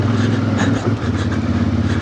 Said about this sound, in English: This engine's got a nice sound to it.